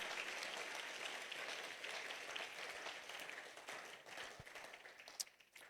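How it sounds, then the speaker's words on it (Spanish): A church congregation claps during a morning service, a dense, sustained round of applause heard at a distance and fairly faint, with a few sharper claps standing out near the end. "¿Por qué no le da fuerte ese aplauso al Señor esta mañana?"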